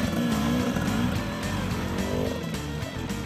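Husqvarna enduro motorcycle straining up a steep climb at a Lowveld enduro race, its engine buzzing loud and steady with wavering revs and spinning wheel, mixed with outdoor background noise.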